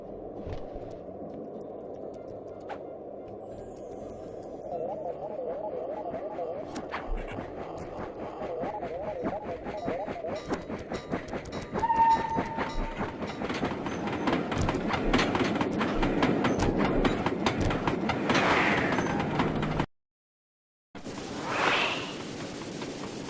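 A train in the Sly 2: Band of Thieves video game rumbles steadily with a rhythmic clickety-clack, loud and close, then cuts out briefly near the end before returning.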